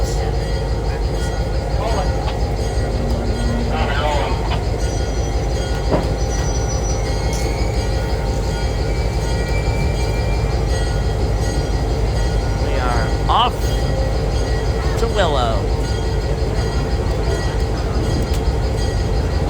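A heritage train at the Florida Gulf Coast Railroad Museum in Parrish, Florida lurches into motion, with steady rumbling rail noise, brief wheel squeals and clanks under a voice speaking throughout.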